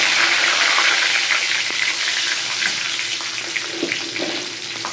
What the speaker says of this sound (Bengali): গোটা মশলাগুলো দিয়ে দিচ্ছি